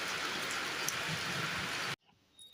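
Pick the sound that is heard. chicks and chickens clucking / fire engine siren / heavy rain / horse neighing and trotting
heavy rain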